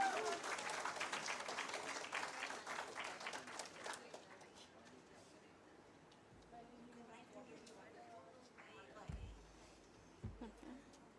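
Audience applause at a Women's Day special event of an interior design chapter in Hyderabad, a burst of clapping at the start that thins out and fades within a few seconds into room noise and a few thumps.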